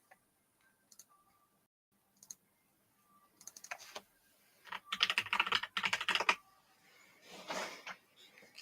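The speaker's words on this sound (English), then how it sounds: "I'm so good at typing." Quiet typing on a computer keyboard: a few isolated key taps at first, then denser bursts of rapid clicking close by, with short pauses between runs.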